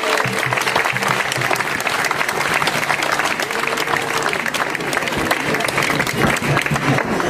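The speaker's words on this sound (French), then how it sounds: "On peut les applaudir aussi." A festival crowd at the Fêtes de la Saint Hermentaire applauds a visiting orchestra, dense and loud sustained clapping with a low murmur of voices and some background tones underneath.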